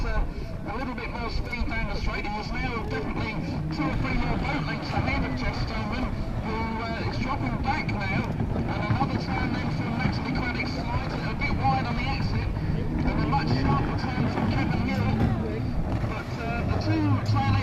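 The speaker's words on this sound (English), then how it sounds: "Mark Williams and Mike Pillow, the two traditional T850 mono drivers fighting it out there" T850 mono racing powerboats running on the water during a GT 30 race at Nottingham, a steady engine drone with wind buffeting the microphone throughout, no talk over it.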